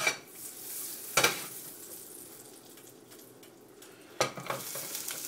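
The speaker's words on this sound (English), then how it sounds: "melt that butter. Also, if you want, put just a little bit of oil in there so that we keep the butter from burning" Butter with a little oil melts and sizzles in a pan, a soft even hiss with a couple of sharp clanks near the start and again later, close and quiet.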